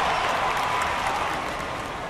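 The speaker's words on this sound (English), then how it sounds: "Cardinals fans applaud that first out." Crowd of Cardinals fans applauds in a computer baseball game, Action PC Baseball, a steady wash of clapping and cheering at moderate volume that holds evenly and slowly fades.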